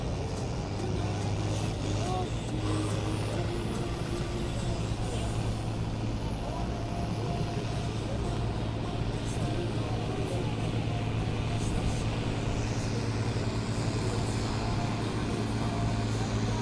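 Stock tractors in a farmers' wheel-standing pull in the woods, an electric and a diesel machine dueling side by side, give a steady distant engine drone over crowd murmur and ambient noise throughout.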